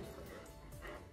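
Giant schnauzers, an adult and a younger dog, play in a car's back seat, giving soft whimpers, yips and small woofs that run continuously at low volume against steady cabin noise.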